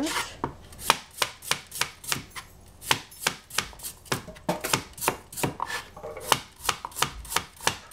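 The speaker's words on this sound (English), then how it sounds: "The problem of cutting cucumber is that it always comes soft" A knife chops boiled cucumber on a board in quick, steady strokes, about twenty or so sharp close knocks in a brisk, slightly uneven rhythm with no talking.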